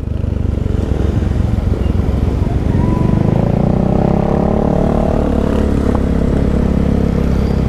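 A Yamaha Mio i 125 motor scooter rides along a road between Altavas and Bacolod, its engine a steady loud drone with wind rumble throughout and no talking.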